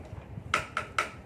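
A wooden frog percussion instrument is tapped with a stick three times in quick succession, giving crisp, hollow knocks over a faint background murmur.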